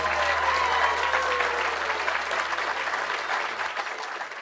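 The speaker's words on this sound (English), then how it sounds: "Have a nice round of applause for Brittany and Matthew." Sustained audience applause fills the room for about four seconds, a thick, even wash of clapping over faint background music with low sustained tones.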